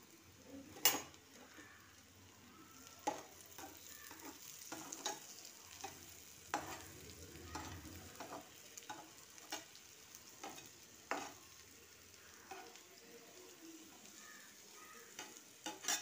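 A Maggi omelette fries gently in butter in a frying pan, giving a faint, steady sizzle with occasional sharp clicks and scrapes of a spatula against the pan.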